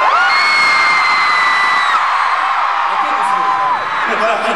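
A concert crowd at a Music Bank show in Paris screams loudly and continuously, a dense sustained roar of high-pitched voices with a few whoops rising above it.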